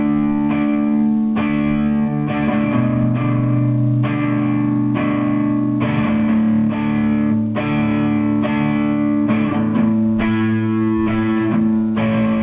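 Electric guitar plays the second-verse chord progression of a song with a varied picking pattern, steady and full, with a light effect coloring the tone.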